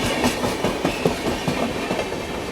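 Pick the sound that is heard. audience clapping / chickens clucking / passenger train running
passenger train running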